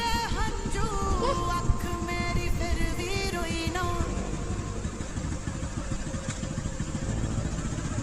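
A scooter engine runs at low revs while a learner rides slowly, a steady buzzing hum with slight rises in pitch as the throttle is eased up and occasional light clatter.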